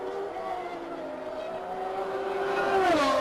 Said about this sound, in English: you can hear that Senna has really got a problem. Here is engine flatting. It's not running clear